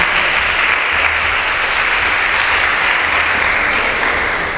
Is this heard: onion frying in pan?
no